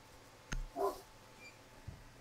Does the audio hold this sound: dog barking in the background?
yes